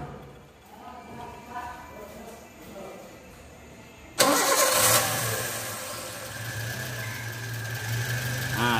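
Car engine with its vacuum hose disconnected cranks and fires up abruptly after a quiet stretch, then settles into a rough, uneven idle, close by, with someone talking.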